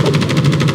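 Rapid automatic gunfire in the video game The First Descendant rattles in a loud, continuous burst of quick repeated shots over a deep rumble.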